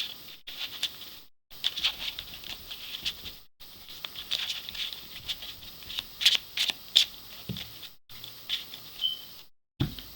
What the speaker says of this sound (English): So we're going to shuffle again.